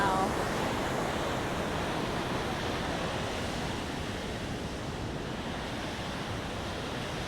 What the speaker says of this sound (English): This is Cascade Creek